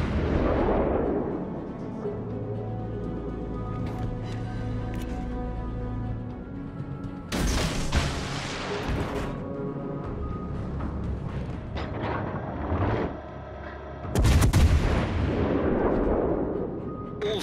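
Heavy naval gun salvos in World of Warships: Legends, deep booming blasts landing at intervals of several seconds, with rumbling decay and ship ambience between them.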